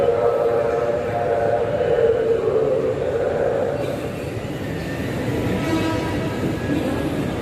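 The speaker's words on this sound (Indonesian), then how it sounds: "Ini kereta jalur 2 udah siap diberangkatkan kembali menuju stasiun Angke." A commuter train at a Jakarta station bound for Angke rumbles loudly and continuously nearby, a steady heavy roar with a brief horn-like tone, and no voices.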